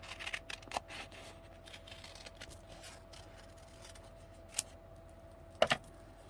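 Scissors snip out a small paper penguin sticker at a crafting desk, giving a few quiet, sparse cuts with a couple of sharper snips near the end over a faint steady hum.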